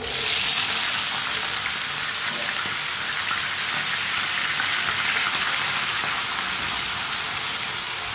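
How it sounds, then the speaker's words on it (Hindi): Cut potato pieces for aloo karela fry in a hot pan, giving a loud, steady sizzle that continues unbroken with no talk. "आलू को भी 2-3 मिनट के लिए पका लेंगे, फ्राई कर लेंगे इसे।"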